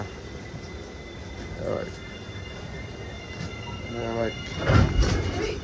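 A steady low rumble fills the inside of a moving passenger train bound for Jagannath Puri, with brief rattles and a door-like clatter near the end while people talk nearby.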